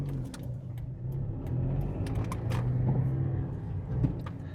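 A car drives through quiet UK city streets at dusk, with a low steady engine and road rumble from inside the cabin and a few faint clicks and rattles, but no talk.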